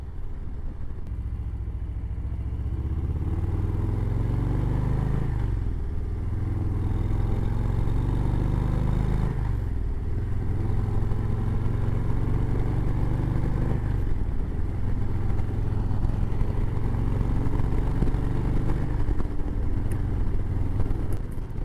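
A Harley-Davidson Low Rider ST motorcycle cruising on a highway at about 75 mph, its engine a deep, steady low rumble that holds level throughout, with brief dips every few seconds.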